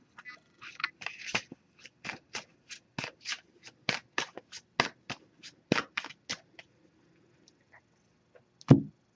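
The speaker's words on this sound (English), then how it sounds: "So just going to give this a few shuffles now." A deck of oracle cards is shuffled by hand in a quiet room, giving a run of about twenty crisp riffling and slapping bursts at a fairly regular pace, close and clear. A single louder knock comes at the end.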